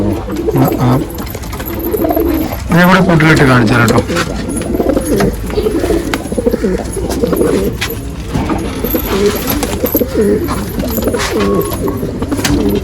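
Pigeons coo steadily in a loft of Haifa pigeons, a continuous soft warbling that runs throughout beneath someone talking nearby.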